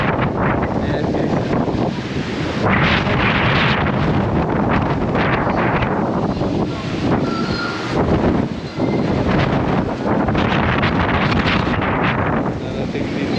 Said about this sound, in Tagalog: Ayan yung lakas ng hangin.